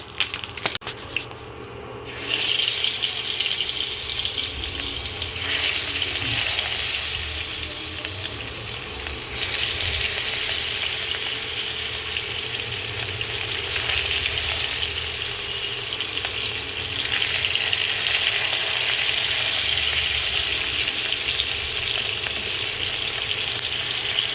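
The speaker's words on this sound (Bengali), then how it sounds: "চটপট করছে ইন্ডাকশানের তলায় মনে হয় মানে কড়াইয়ের তলায় মনে হয় জল ছিল" A wok on an induction cooktop sizzles and crackles because water is trapped under its base, a loud, steady frying hiss with scattered pops that runs continuously without talk.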